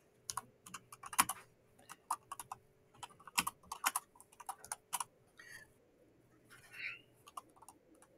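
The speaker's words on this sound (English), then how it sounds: "when I start typing here" Quiet computer keyboard typing comes in short bursts of soft, fast clicks with brief pauses, a faint steady hum, and birds cooing faintly in the background.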